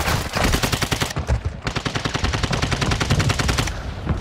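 Loud, rapid automatic gunfire rattles almost without pause in the Call of Duty DMZ video game. It comes as close, continuous bursts with no voices over them.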